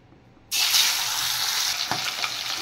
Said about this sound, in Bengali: এবার মাছটা ভাজতেই তো ভয় লাগছে